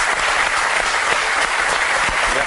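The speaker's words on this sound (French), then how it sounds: "Et je fais des applaudissements à vous" Studio audience applause in a television studio, a continuous, loud burst of many hands clapping at an even level throughout, with no talking over it.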